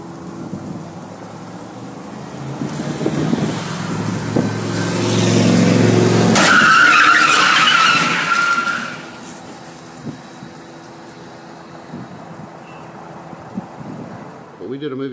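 Staged film stunt crash with cars driven into each other on a movie set: a loud rushing swell of tyre and engine noise builds and peaks, then fades to a quieter background.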